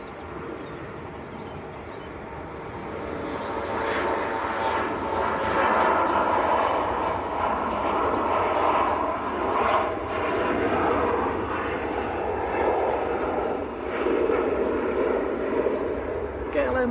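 A KLM airliner departs Manchester Airport for Amsterdam, its engine roar swelling after a few seconds into a loud, sustained rumble that holds to the end, with people talking beneath it.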